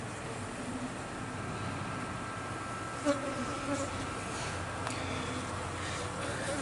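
Honey bees swarm and buzz around an open hive during a summer inspection, a steady, dense drone close to the microphone that holds through the whole clip with only small swells, and no talking.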